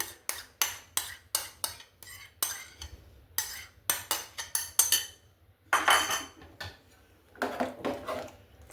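Spoon scraping and clinking against a pot while yogurt is stirred into beef curry, in a quick run of regular metallic strokes that pauses briefly and then resumes in bursts.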